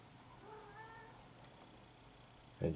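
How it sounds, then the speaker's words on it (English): A faint cat meow sounds in a quiet room, with a brief louder thump near the end. "you probably hear my cat"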